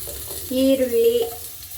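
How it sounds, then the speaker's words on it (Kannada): Onion with garlic, ginger, star anise buds and a bay leaf frying in a pan for mutton sambar, a steady sizzle swelling up after the first half second, with a clinking stir or two. "ಸ್ವಲ್ಪ ಫ್ರೈ ಮಾಡ್ಕೊಳ್ಳೋಣ"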